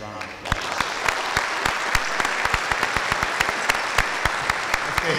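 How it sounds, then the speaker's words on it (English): A town meeting crowd claps in recognition, a brisk, steady patter of many hands rising quickly after a brief pause and holding at moderate loudness. "I'd like to please take a moment and recognize him as a round of applause."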